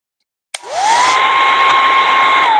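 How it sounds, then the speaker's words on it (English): Hair dryer switched on with a click, its whine rising quickly to a loud, steady, close blowing hum used for a quick blow-dry, with no talking over it. "I'm going to do a quick blow dry here."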